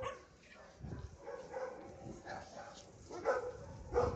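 At a kennel that keeps Rottweilers and golden retrievers, a dog gives a few short barks and yips at moderate distance, mixed with faint whimpering. People talk over the sounds.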